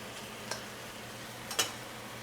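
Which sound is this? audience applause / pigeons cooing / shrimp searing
shrimp searing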